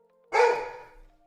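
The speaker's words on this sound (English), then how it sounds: "My guard dog kicked in." A guard dog lets out a single loud, close bark that cuts off quickly in an otherwise quiet room.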